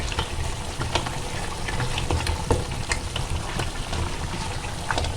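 Mutton for street-style pulao fries and is stirred in a pot, producing a dense, even sizzle with rain-like patter and occasional soft knocks of the spoon, no voices.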